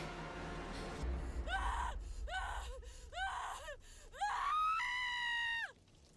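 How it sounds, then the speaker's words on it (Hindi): A woman screams in a horror audio drama, with rising gasping cries that build into a long, sustained, wavering shriek, loud and close, over a dark low rumble. "मासूम ने चीखते हुए आंखें खोल ली।"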